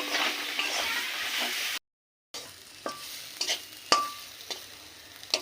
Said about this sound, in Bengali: দেখুন বন্ধুরা, আমাদের কচু পাতাটা ভাজা হয়ে গেছে